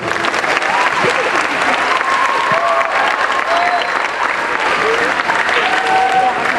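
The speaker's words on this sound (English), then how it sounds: "Go ahead and give her a round of applause." A school audience gives a steady round of applause for a guest speaker at a Murphy middle school event, dense loud clapping with crowd murmur and a few whoops, sustained evenly throughout.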